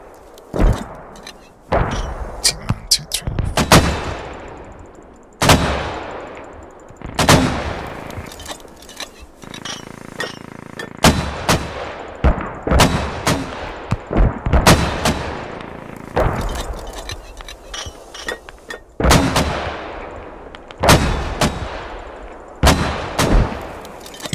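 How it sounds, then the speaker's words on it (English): Repeated heavy mortar impacts and launches boom out in Squad, sharp blasts every second or two across a long barrage, each with a rolling decay, loud and fairly close with no talking. "Mortars out on the checkpoint."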